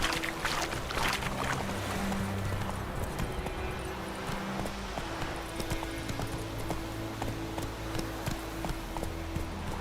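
Horse hooves clip-clop at a steady trot in The Witcher 3: Wild Hunt, a continuous rhythmic patter of moderate loudness over game ambience, lasting the whole stretch.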